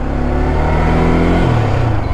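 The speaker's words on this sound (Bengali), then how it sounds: "বাট এই বাইকটার এক্সজস্টের সাউন্ডটা না" A modified motorcycle fitted with an Akrapovic exhaust idles and revs in a loud, close, steady engine drone whose pitch drops partway through, with no talk.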